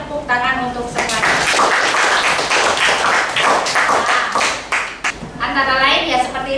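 A class of students claps together in a classroom, a dense burst of close, rapid hand claps lasting several seconds, with a voice speaking just before and just after.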